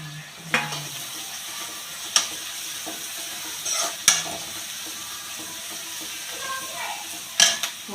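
Carrots sizzle in a pan with onion and ginger for vegetable semiya upma, a steady soft frying hiss broken by several sharp clinks of a spoon stirring against the pan.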